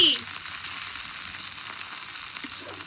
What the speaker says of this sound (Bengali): এই যে দেখেন কাঁচামরিচ, সাথে আবার শুকনা মরিচ, ভাজি ভাজি ভাজি